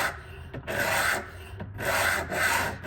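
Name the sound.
sharpening knife on a 120 grit stone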